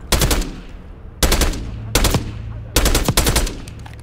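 Loud bursts of automatic gunfire from Call of Duty: Black Ops 6, four separate volleys of rapid shots with short pauses between them, close and dominant with no talk over them.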